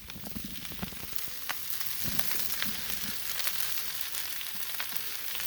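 Beef fried rice frying on a griddle over charcoal in a Big Green Egg, a soft steady sizzle with scattered crackles and scrapes, alone without talk.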